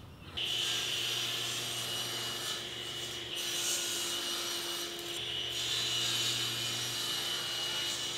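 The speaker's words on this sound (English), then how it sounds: "For these three small pieces that I just cut," Small pieces of wood being cut for a drill press clamp, likely with a saw: a steady close mechanical hum with a harsh rasping cut running through it, no talking.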